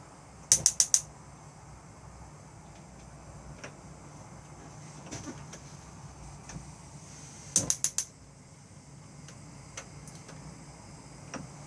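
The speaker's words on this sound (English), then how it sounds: "twist and press your igniter" Gas hob igniter on an Auto-Trail Imala 615 motorhome, two quick bursts of sharp clicking several seconds apart, each a rapid cluster of three or four ticks over quiet background.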